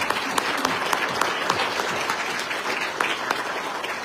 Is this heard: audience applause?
yes